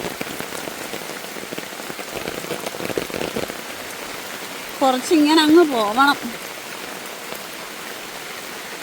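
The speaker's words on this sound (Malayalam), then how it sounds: "പോട്ടെ, കാണിച്ചു തരാം മഴയുടെ അവസ്ഥ." Heavy rain falls steadily on muddy garden ground in a dense, even hiss, with a short burst of speech partway through.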